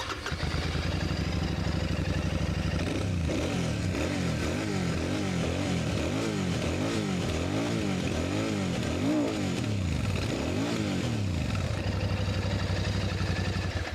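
A Royal Enfield Shotgun 650 motorcycle engine cranks and fires up, then settles into a loud, steady, thumping exhaust rumble that revs up and down a few times before returning to idle.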